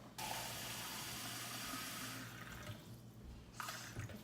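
Water is poured into a pot of chicken soup, a steady broadband rush of running liquid for about two seconds that thins out, with faint clinks and kitchen noise at the end.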